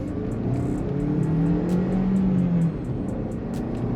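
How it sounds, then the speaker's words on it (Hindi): A Maruti Suzuki Baleno AMT hatchback pulls away and accelerates, its engine note rising steadily in a loud, close drone for a few seconds before settling as the automatic gearbox shifts. "सबसे पहले कार को लॉन्च करते हैं"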